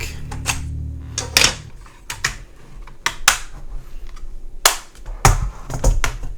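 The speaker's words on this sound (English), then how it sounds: "Is that my keyboard?" Computer keyboard typing in irregular bursts of close, sharp key clacks with pauses between them, alone without speech.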